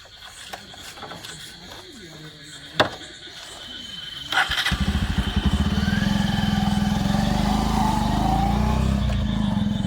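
A motorcycle engine starts partway through and then runs in a loud, steady, close putter after some quieter scuffs and a brief squeak, with speech-like sounds in the early part.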